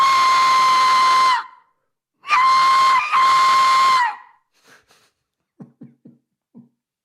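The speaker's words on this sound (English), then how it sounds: "Aztec death whistle." An Aztec death whistle blasts three times in piercing, shrill, long, loud bursts, followed by a few faint, short clicks and knocks.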